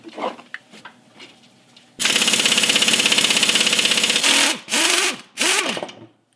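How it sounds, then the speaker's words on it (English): Loud, close bursts of a rattling pneumatic impact wrench with a deep socket spin the U-bolt nuts off a leaf spring, one long run followed by shorter bursts and quieter clinks between them. "Now I'll loosen up all four nuts on the top of the U-bolts here."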